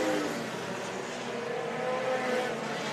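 Sport compact race cars roar around a dirt track in Davenport, Iowa, a continuous, fairly distant engine drone with shifting pitch as cars pass, under a crowd-like wash.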